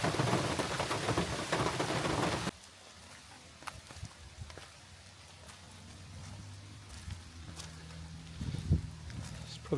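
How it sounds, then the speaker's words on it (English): A loud wash of heavy rain falling on an off-grid treehouse fills the opening seconds, then cuts off abruptly to quieter scattered taps and faint movement. "absolutely a ton of rain"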